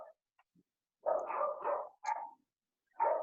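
A dog barks several times in short separated bursts, fairly close and moderately loud, with quiet gaps between the barks.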